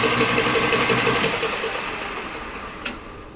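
A lathe takes a cut on a Delrin plastic bushing for a mower, giving a steady machining whir with a light chattering texture that fades slightly over a few seconds, with a brief click near the end.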